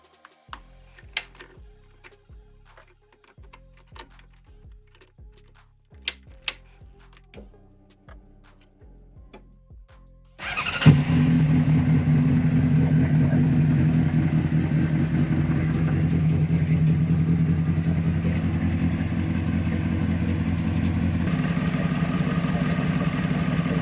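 After several clicks and knocks, a motorcycle engine starts abruptly after an oil change with ceramic oil and settles into a steady, close idle for the rest of the time.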